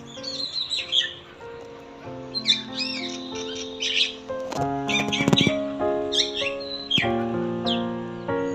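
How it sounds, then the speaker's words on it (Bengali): Small birds chirp and tweet in a garden in the morning, with repeated bright calls and a few harsher squawks, some near and loud, others fainter behind them. "এই পাখির কলরবগুলো শুনলে মনে হয় যেন এখানেই বসে থাকি আর সারাদিন শুনতে থাকি"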